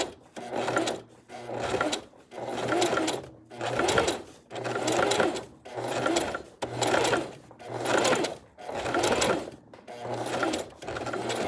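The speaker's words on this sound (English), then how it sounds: "So I want to continue sewing nice and straight." A sewing machine stitching a centered zipper in repeated bursts of fast mechanical whirring, each burst a second or so long, separated by brief pauses, close and steady.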